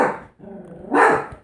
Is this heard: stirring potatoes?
no